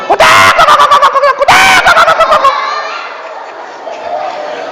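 A voice imitates a chicken's loud, squawking cackle in rapid bursts, then trails off into a softer, drawn-out call.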